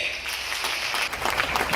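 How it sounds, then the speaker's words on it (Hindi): A seated audience at an Indusviva Health Science business plan presentation breaks into loud, continuous applause, a dense wash of clapping that holds steady for the whole moment. "एक बार जोरदार ताली ले सबके लिए"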